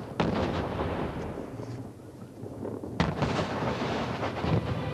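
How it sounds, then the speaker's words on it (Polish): Archival war footage of the bombing of Baghdad, with a sustained rumble of explosions and heavy gunfire, dense and loud throughout, a sharp blast standing out around the middle. "Bombardowanie Bagdadu jak pokaz sztucznych ogni. Będzie wielkie boom."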